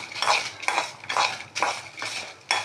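Dry coconut and red chillies fry in a pan for a stuffed brinjal curry, with a spatula scraping and tossing them in loud, repeated strokes about every half second, up close and with no talk.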